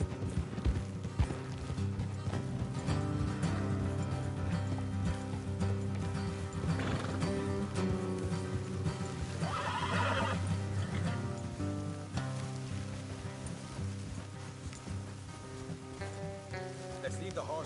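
Horses in the Red Dead Redemption 2 video game whinny and their hooves clip-clop along a road. Steady game sound and music play underneath throughout, with a brief neigh standing out midway.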